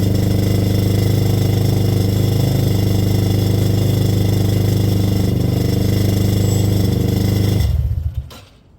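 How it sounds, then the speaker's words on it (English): A motorcycle engine runs steadily and loudly close by, a constant throbbing hum with metallic clatter from a loose bolt, before it cuts off and dies away at the end. "wondered what that rattling was. I left the bolt loose."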